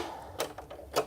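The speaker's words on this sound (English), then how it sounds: "Just have to change the bobbin" Bobbin being changed on a sewing machine while upcycling a thrifted T-shirt into shorts: a few light, sharp mechanical clicks and taps, spaced unevenly, the loudest two near the start and end, against quiet room tone.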